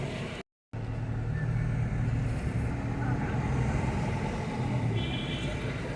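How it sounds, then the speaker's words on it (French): Congested city traffic in Meknès, Morocco, with idling cars and trucks rumbling low and steady, a brief hiss like an air brake near the start, heard from inside a vehicle. "Il y a beaucoup de voitures à cette heure-ci."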